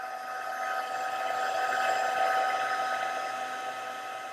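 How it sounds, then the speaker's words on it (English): A heat gun blows a steady, even whoosh of hot air while melting silver embossing powder for a stamped Christmas bauble, holding close and constant throughout with a slight swell in the middle, no voices present. "you want to keep that heat gun moving, but not moving so fast that nothing's melting"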